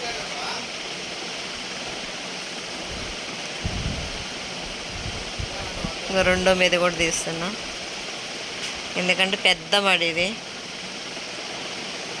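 Steady rushing of water flowing into a paddy seedbed runs throughout, with a person talking briefly over it in two stretches.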